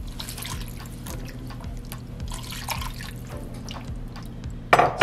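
Broth being stirred into a chicken pot pie filling, a steady wet sloshing and dripping of liquid in a pot, close and continuous with a brief louder clink near the end and no talking.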